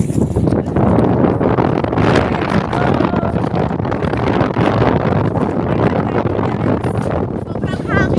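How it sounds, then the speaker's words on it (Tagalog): Strong wind roars across the microphone in a loud, constant rush, with voices briefly audible through the buffeting. "Sobrang hangin"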